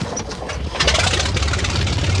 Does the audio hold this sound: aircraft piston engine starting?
yes